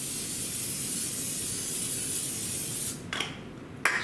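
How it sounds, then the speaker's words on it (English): Cooking spray hisses in a long, continuous loud burst onto a baking pan, followed by two brief, sharper sprays after a short break. "spray my pan"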